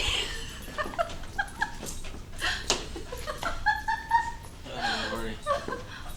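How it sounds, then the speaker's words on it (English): An excited puppy whimpers and whines in high, quivering bursts mixed with short yips, close by and fairly loud, with a few soft background voices. "It's been such a long time since I've had a puppy like this."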